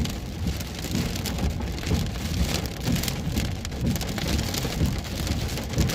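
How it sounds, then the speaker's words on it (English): Heavy rain with hail pounding down during a Midwest thunderstorm in southern Illinois/Indiana, a loud, dense, steady drumming on surfaces with irregular hard impacts and no talk. "there's hail with it now"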